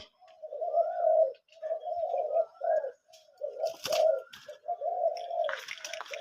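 Deep, low dove coos repeat in a steady series of rounded phrases, fairly close and clear, with a few faint bird chirps in the background.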